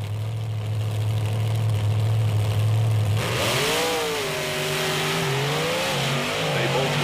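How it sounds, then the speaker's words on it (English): Monster trucks, a Bigfoot Ford against a Chevrolet, race side by side in a loud roar: a low idling drone rises into revving engines with sweeping pitch changes, and commentary runs over the noise. "Tom Meents in the near lane, and in the far lane, Lonnie Childers in the Bigfoot Ford"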